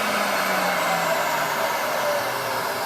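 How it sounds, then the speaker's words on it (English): A whole-house central vacuum system runs in a late-1980s attic, giving a loud, steady broadband whoosh and hum throughout with no talking. "I can't remember seeing a whole house central vacuum system in an attic before."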